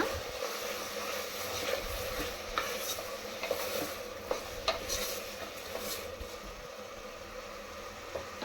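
Tomatoes with salt fry and get stirred in a pan for vegetable masala dal khichdi, giving a steady close sizzle with scraping spoon strokes and occasional clicks against the pan.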